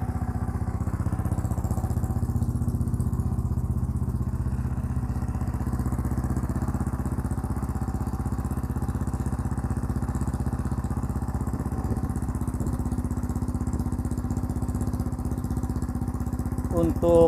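A custom BMW concept classic motorcycle idles through a single-muffler exhaust, giving a steady, unbroken, low mechanical drone with a faint clatter that holds close and even for the whole stretch.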